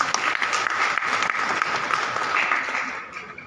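An audience at a public gathering with a vice chancellor present breaks into applause, a dense, steady clatter of many hands clapping at moderate volume that thins out at the end.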